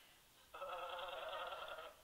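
La Casa de Papel phone ringtone, a short bright electronic tone starting abruptly and holding for over a second before cutting off, clear and alone against quiet.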